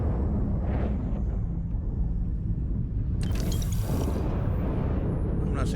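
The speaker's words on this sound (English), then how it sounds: "I've never seen a ship blown up like that" In the space game Starfield, a spaceship blows apart in a sudden, bright blast about halfway through, rising out of a steady, heavy rumble of mechanical engine noise.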